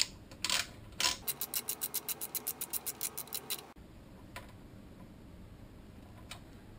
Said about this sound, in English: Now all I have to do is tighten up the bolt.